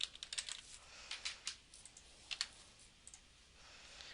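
Light, quick clicks of fingers typing on a computer keyboard while entering text in CAD drafting software, a close, quiet patter of irregular keystrokes with short gaps between bursts.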